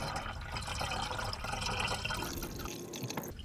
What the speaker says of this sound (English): you pour the coolant and monitor the level